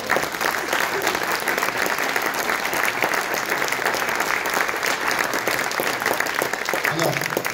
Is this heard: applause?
yes